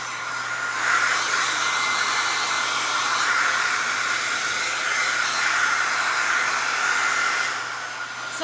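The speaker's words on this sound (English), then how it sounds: "let's just blow dry this really quick" A hair dryer blows continuously on a resin craft piece, a loud, steady rushing whoosh held close for the whole stretch with only slight swells in strength.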